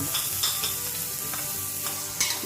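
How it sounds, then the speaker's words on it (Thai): Pounded chili and garlic stir-fry in hot oil, a steady close sizzle broken by scraping stirs and a few sharper spatters, with no voices. "ผัดพริกกับกระเทียมที่เราโขกไว้ลงไปในน้ำมัน"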